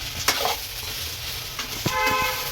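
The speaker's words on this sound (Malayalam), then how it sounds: "അപ്പൊ നമ്മൾ സവാള ഇങ്ങനെ ഇളക്കി ഇളക്കി" Onions frying in a pan while being stirred, producing a steady crackling sizzle broken by a few spoon scrapes and knocks against the pan.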